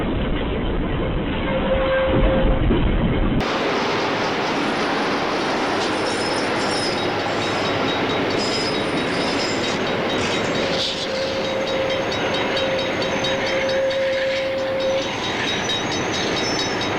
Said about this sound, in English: a car crossed the tracks and was hit by a train in Santa Fe.